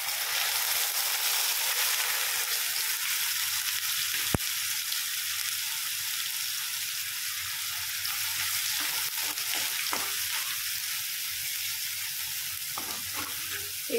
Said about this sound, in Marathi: पेस्ट आपल्याला छान भाजून घ्यायची आहे तेल सुटेपर्यंत